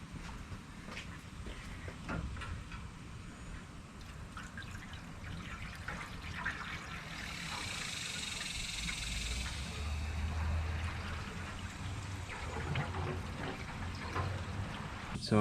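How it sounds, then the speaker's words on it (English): Water poured into the radiator of a 1965 Mustang that has sat in a field, a continuous trickling and splashing pour up close, swelling slightly midway, with no talking. "I'm gonna put the water in first just in case if it spills everywhere."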